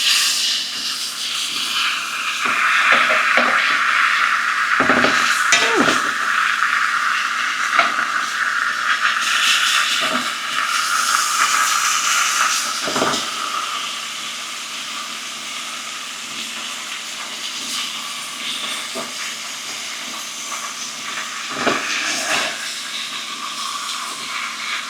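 A fatty steak edge sears in a hot pan during a reverse sear, giving a loud, steady hiss with crackling bursts that rises early and slowly eases, heard up close with no talking.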